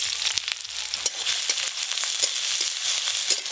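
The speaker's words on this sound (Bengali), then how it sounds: "পেঁয়াজ একটু হালকা করে ভেজে নিয়েছি" Chopped onion frying in mustard oil with a dry red chilli, a close, steady sizzle broken by crackles and spatula scrapes, with no voices.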